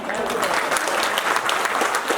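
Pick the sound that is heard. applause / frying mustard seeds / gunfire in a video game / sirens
applause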